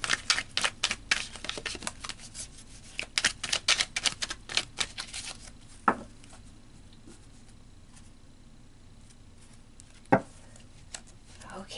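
Rapid papery riffling of tarot cards being shuffled in quick bursts, close and fairly quiet, followed by a couple of soft taps and near silence.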